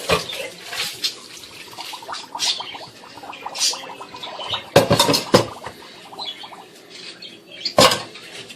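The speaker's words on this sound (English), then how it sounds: "Now I am going to drain the pasta or the fettuccine." Cooked fettuccine for a shrimp and broccoli dish is drained, with water gurgling and splashing in irregular bursts and a few louder sloshes near the end.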